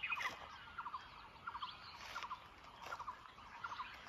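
Birds chirp faintly in the Uttarakhand mountains, light repeated tweets and short call phrases scattered over a soft, steady outdoor hiss.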